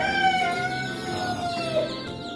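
Rhode Island Red and Hubbard cross chickens clucking and crowing nearby on a free-range farm, a short burst of overlapping fowl calls, fairly loud and close, with no talking.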